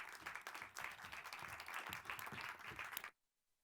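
Audience applause as panelists walk onto the stage at a fashion sustainability event, a full, lively round of clapping that ends abruptly after about three seconds.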